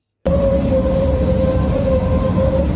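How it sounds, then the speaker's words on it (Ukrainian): A blue-and-yellow tram runs through Düsseldorf with a steady, continuous rumble and a sustained tonal whine that starts abruptly and holds evenly, close and fairly loud. "В німецькому Дюссельдорфі запустили трамвай у синьо-жовтих кольорах та розписаний українською мовою."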